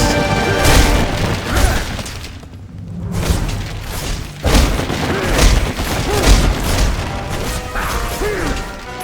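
Explosions from homing missile fairies in the video game Castlevania: Lords of Shadow: loud, repeated crashing booms and smashing bursts in quick succession, with a brief lull partway through.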